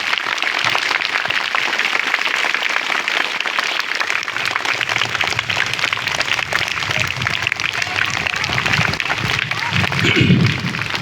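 Audience at a Brahma Kumaris drug-free Maharashtra awareness event at a school gives loud, sustained applause to welcome guests, a steady dense clapping that stays even throughout with some crowd murmur.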